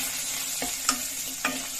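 Ginger, garlic, green chilli and a red chilli fry in a pan with a soft, steady sizzle, broken by two or three quick scraping stirs, heard close up and quiet.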